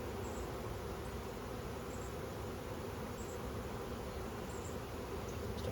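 Honey bees buzzing around a hive during a bee rescue, a dense continuous drone filling the air, steady and fairly close with no pauses and no voices.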